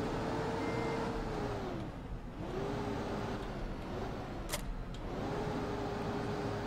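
John Deere 6R 7310 tractor in Farming Simulator 15 running steadily with a broad engine drone and a faint tone that dips and rises a few times, plus a brief sharp click midway, alone without talk.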